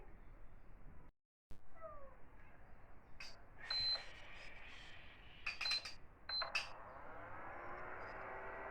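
An induction cooktop gives several short, faint electronic beeps as it is switched on, spaced a second or so apart over a soft background hiss.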